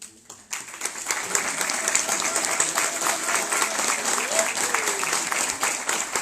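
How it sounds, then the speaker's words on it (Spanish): Immediate, steady applause from the audience at a seminar on water as a common good in Osorno, dense and fairly loud after a brief quiet start, sustained throughout with no voices on top. "gracias también por el aplauso inmediato"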